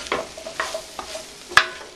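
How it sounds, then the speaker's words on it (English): Butternut squash, spices, onions and ginger are mixed in a pot, with several soft scraping stirs and one sharp clink of the spoon against the rim near the end. "we mix it around so it's nicely covered with spices and onions and ginger"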